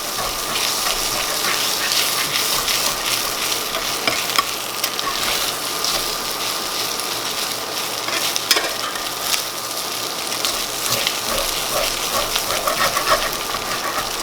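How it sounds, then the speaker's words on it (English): Steady loud sizzling and bubbling as milk goes into browned sausage and flour in a hot pan for gravy, continuous frying hiss with occasional scraping clicks, close up. "all you have to do is throw the milk in"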